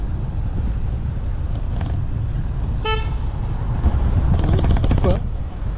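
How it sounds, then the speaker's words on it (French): Car horns sound during a road altercation: a sharp short toot, then a longer blast a couple of seconds later, over steady traffic rumble. "4 séries de klaxons."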